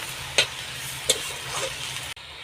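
Spices frying in a pan while being stirred, a soft continuous sizzle with two sharp utensil taps against the pan, ending abruptly.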